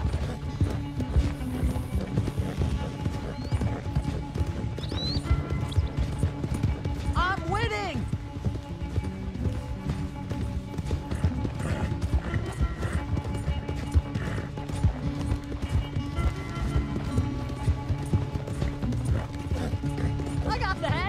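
Horse hooves pound steadily in a Red Dead Redemption 2 race, a continuous galloping rhythm with occasional whinnies and game effects throughout.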